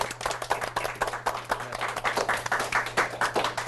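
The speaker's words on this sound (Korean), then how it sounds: "오늘 이제 수고해주신 두 분 제 속기생님께 박수 부탁드리겠습니다" An audience at a book forum author event applauds the two stenographers with brisk, continuous clapping, dense and steady at moderate loudness, over a faint constant electrical hum.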